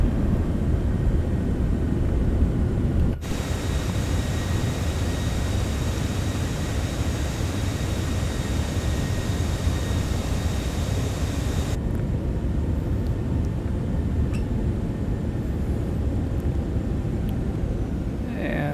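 Citation X jet rolling out after landing with thrust reversers deployed, a loud broadband engine roar that holds steady under cockpit noise, then eases as the reversers come back.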